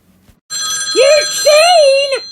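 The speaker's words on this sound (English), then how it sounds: "The phone's ringing!" A telephone rings loudly and close by, a sustained warbling electronic tone in two pulses following a brief quiet moment.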